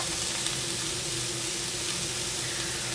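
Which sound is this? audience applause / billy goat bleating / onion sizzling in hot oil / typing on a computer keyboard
onion sizzling in hot oil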